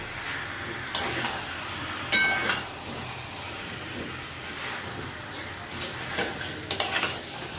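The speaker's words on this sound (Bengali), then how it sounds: "চিকেনটা ভালো করে নাড়াচাড়া করে নেবো খানিকক্ষণ।" Chicken for biryani is stirred in a pan over a low gas flame, with a soft steady sizzle under repeated scraping strokes and occasional metallic clinks of the spoon against the pan.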